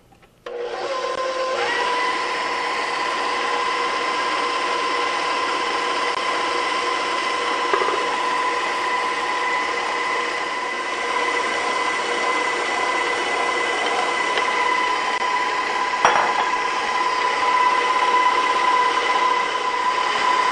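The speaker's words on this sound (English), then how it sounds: "We're going to mix it on a medium speed until it's light and fluffy." An electric mixer on medium speed creams butter and sugar for a key lime pound cake, giving a steady, even motor whine that runs unbroken for about twenty seconds, close and fairly loud.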